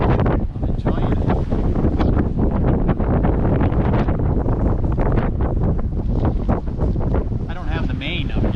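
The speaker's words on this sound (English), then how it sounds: "pretty good wind. Got my new sails up." Wind rushes steadily and loudly across the microphone aboard a sailboat under two new sails, mainsail down, moving at about 6 knots on a November sail toward North Carolina, with constant buffeting and no voices.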